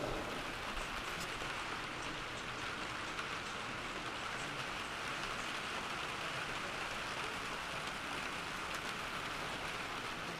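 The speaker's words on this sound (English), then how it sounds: "It's still raining." Steady rain falls outdoors on a late-January day, a dense, even hiss of drops on surfaces that holds at one constant level throughout, with no voices.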